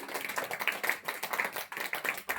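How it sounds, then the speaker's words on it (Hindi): An audience at a spiritual gathering claps to welcome an honoured guest. The applause is dense and continuous, with many hands clapping at once, heard at moderate distance and fairly soft. "आपका भी जोरदार तालियों से हम स्वागत करते हैं।"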